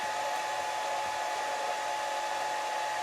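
A handheld rotary tool fitted with a rounded 1/8-inch bit runs steadily for woodturning repair, giving a constant high-pitched whine, close and even in level, with no voices.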